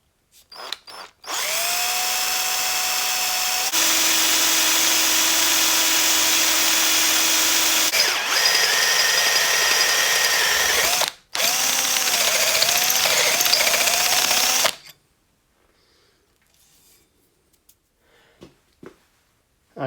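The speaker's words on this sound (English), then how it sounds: "I'll drill it out" Power drill boring out a centre-punched hole during a BMW R80 custom motorcycle build: a close, loud, steady whine that shifts pitch a few times, stops briefly, runs again and ends in near silence with small clicks.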